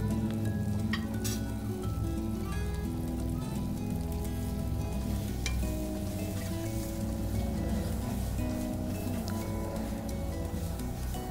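Coriander powder sautéing in a pan for a duck curry, a steady close sizzle running the whole time with scraping stir sounds now and then and no voices.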